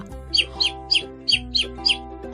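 Six short, bright bird chirps at a steady pace, attributed to a sparrow, sounding close and clear over a quiet, even background tone.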